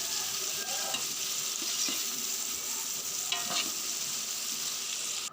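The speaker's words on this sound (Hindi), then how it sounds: "तो जी चिकन डाल के अब हम इसकी भुनाई करेंगे 2 मिनट" Chicken stir-frying in a pan for a large batch of Chinese rice, a dense continuous sizzle with occasional scrapes and knocks from stirring, up close and without talk.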